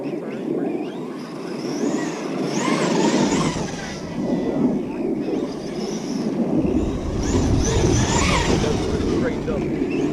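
A Kyosho USA-1 radio-controlled monster truck drives outdoors with its motor whining and rising and falling as the throttle changes, while someone talks over it.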